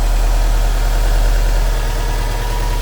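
A 2004 Subaru Impreza WRX STi engine idles steadily just after a cold start, a close, even, smooth low rumble with constant vibration and no voices.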